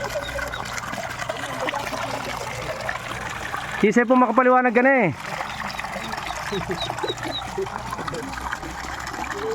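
Water runs and trickles continuously in the background while people talk nearby, with a brief voice rising over the flow midway.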